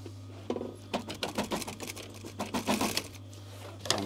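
A sewing machine puts a few stitches across a fold in a VW T5 Transporter seat cover, running in short rapid bursts close by over a steady low hum, with no voices.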